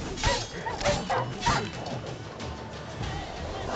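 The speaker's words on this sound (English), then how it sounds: "Look at the dogs." Dogs in The Witcher 3: Wild Hunt bark and yip in quick bursts, mixed with whimpering and game combat noise, fairly close and loud.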